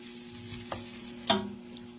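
Pork adobo frying in a pan sizzles softly while a utensil stirs it, with two distinct scraping strokes cutting through the steady hiss at close range.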